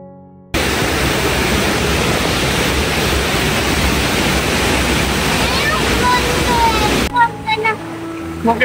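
A waterfall on a trek in Germany rushes as a steady, loud, broadband roar heard from close by, then drops away near the end.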